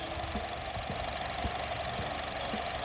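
A 2013 Honda Jazz RS automatic (GE8) idles with a steady, even engine hum and a light mechanical patter, heard close and continuous with no voices.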